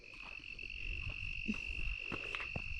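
Steady high-pitched insect trilling, like crickets, runs continuously through the clip outdoors, with a few faint low knocks and calls underneath.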